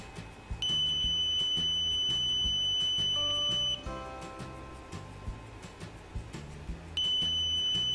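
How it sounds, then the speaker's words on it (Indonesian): A 12 volt buzzer alarm set off by a motion sensor in a homemade anti-theft circuit sounds as a loud, steady electronic tone, cutting off briefly midway and then resuming, over a low background hum. "saat ada pergerakan maka akan mengaktifkan buzzer 12 volt"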